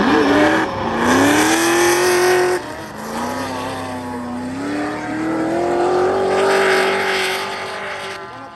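A drift car at the Bordeaux Mérignac circuit during the 2021 French Drift Championship, its engine loud and close, revving high and holding, dropping briefly, then climbing again in a long, sustained wail.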